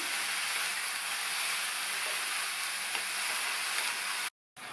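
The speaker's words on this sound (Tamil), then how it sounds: "இந்த பீர்க்கங்காயை 5 நிமிஷம் போல் வதக்கணும்." Chopped ridge gourd sautés in a pan with a steady, even sizzling hiss that holds unbroken and close until a brief cut-out near the end.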